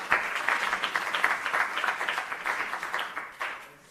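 An audience at a university innovation showcase in South Africa applauds a UKZN team, with dense sustained clapping from many hands filling the room at moderate loudness before tapering slightly near the end.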